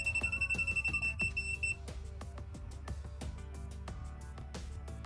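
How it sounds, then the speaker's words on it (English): An ANENG 683 multimeter's non-contact voltage live-wire alert beeps rapidly and shrilly near a live wire, fairly loud, then cuts off and leaves steady electronic tones and clicks. "As you bring the multimeter close to a live wire, it alerts you with both a visual and audible signal"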